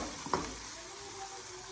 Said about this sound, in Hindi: और प्याज को ब्राउन होने तक हम वेट करेंगे